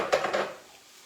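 A utensil scrapes and clinks twice against a pan while peanut butter and miso are stirred for a tofu scramble, close and brief, then fading to quiet.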